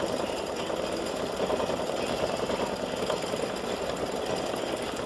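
An embroidery machine stitches highlight outlines around circles on free-standing lace horseshoe earrings and pendant, with a steady, fast, buzzing mechanical rattle that stays even and close throughout.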